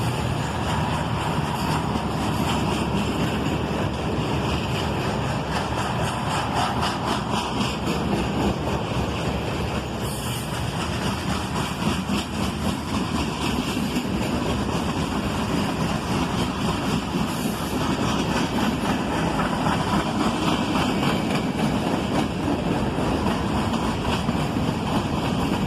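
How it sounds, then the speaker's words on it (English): A freight train made up of Chessie System gondolas rolls past on the Toledo sub with a continuous loud rumble and rattle of wheels that stays steady the whole time, mixed with wind buffeting the microphone. "Now we're getting into some other types of cars on this train."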